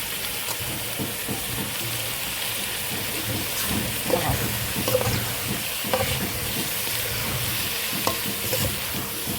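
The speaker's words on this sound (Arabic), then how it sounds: "اقوم حاطه الرز البسمتي اهو، اشوحه شويه مع الحاجات دي كلها." Basmati rice being stir-fried with chopped onion in ghee and a little oil, a steady close sizzle with the spatula scraping and tossing in irregular strokes throughout.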